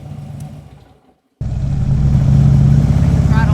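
A motorcycle engine rumbling close by, dipping to near silence before the throttle is raised and it revs up into a loud, steady growl.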